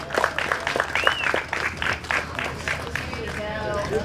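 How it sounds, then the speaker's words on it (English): Crowd at a bass fishing tournament weigh-in applauding, loud and close, with sharp individual claps, a few whoops and voices mixed into the clapping. "let's give a round of applause for Archie"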